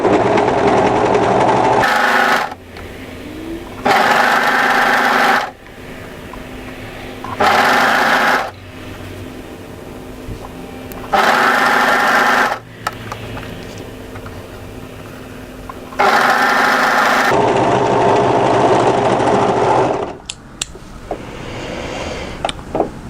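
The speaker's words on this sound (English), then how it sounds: "you can just gently match those points and stitch it out as you go." Sewing machine stitching a knit tee dress, running in several loud sustained bursts of steady whirring separated by short pauses, close and alone.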